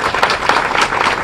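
Crowd at a political speech by an MLA breaks into brief, close clapping, a dense burst of applause lasting only a moment.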